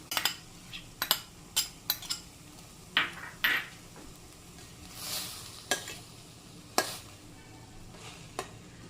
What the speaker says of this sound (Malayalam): നമുക്കൊന്ന് ഇളക്കി നോക്കാം ഇനി നമുക്ക് നമ്മുടെ അരപ്പ് ഇതിലേക്ക് ഇട്ട് കൊടുക്കാം